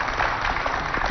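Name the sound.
applause from the talk show audience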